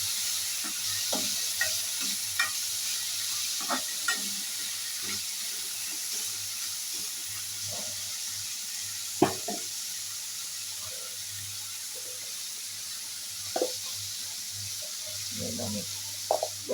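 Fish frying in a pan with onions gives a steady sizzle and hiss, broken by scattered spoon stirs and scraping clatters, with no voice over it.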